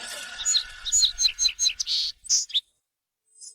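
A bird chirps in a rapid run of bright, close tweets, then falls silent before one more faint call near the end; no voices.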